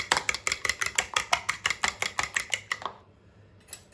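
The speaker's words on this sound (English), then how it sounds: "I'm simply gonna whisk it up" Rapid fork or whisk strokes beat a single egg against the side of a bowl, about sixteen quick even clicks in steady rhythm, close and clear, then stopping.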